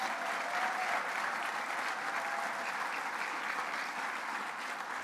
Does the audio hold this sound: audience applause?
yes